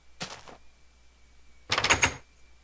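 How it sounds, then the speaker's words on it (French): Wooden door of a villager's house in Minecraft: two separate clunks, a short one followed after a pause by a louder, slightly longer one, with no talking. "Il a même fermé la porte derrière lui."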